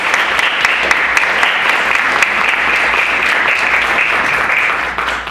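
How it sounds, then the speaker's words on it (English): Audience at a Democratic club endorsement meeting applauding candidates, a full, even wash of clapping from many people, loud and unbroken before tapering slightly at the end. "I'd like everyone to give a round of applause to our candidates."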